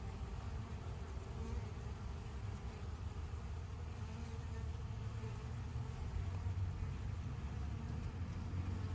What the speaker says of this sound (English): I'm not sure what's going on with this bee.